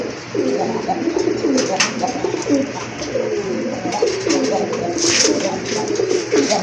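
Several pigeons coo repeatedly in soft, rolling phrases close by, with faint talk and brief rustling in the background.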